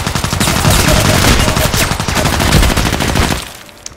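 Dense, loud gunfire from a pump-action shotgun in the shooter game Contract Wars, shots running together continuously for most of the clip before dropping off near the end.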